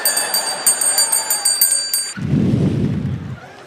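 A bright bell rings rapidly in a quick series of strikes for about two seconds, then gives way to a deep rumbling boom.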